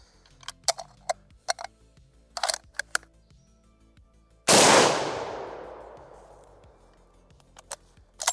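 A single loud, close rifle shot from a B-grade RTI Lee-Enfield firing Remington UMC 174 grain FMJ ammunition at a 15-yard range, a sharp crack followed by a long decaying echo, with faint clicks and handling noises before and after.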